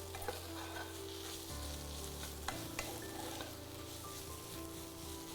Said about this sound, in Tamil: இந்த மீல் மேக்கரும் நல்லா வெங்காயத்து கூட வதங்கட்டும்